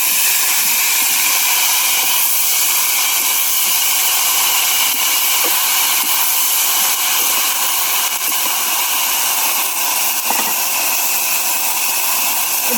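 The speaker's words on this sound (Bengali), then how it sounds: "এই যে আমি এবার এটা দিয়ে দেবো শাকটা।" Organic leafy greens (note shaag) hit a hot pan and sizzle with a loud, close, continuous hiss that holds steady throughout, with no voices.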